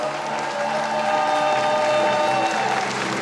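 An audience at a Georgian children's and youth singing contest breaks into sustained, dense applause that swells slightly and fills the hall, loud and continuous throughout.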